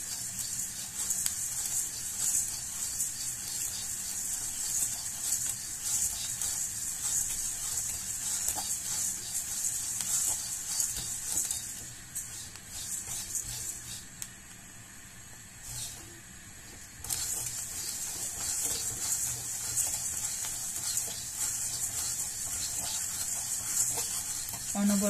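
Rice dry-roasting in a pan as it is stirred constantly, a steady bright hiss and scratchy rustle of grains scraping the pan that runs throughout with brief dips, no talk.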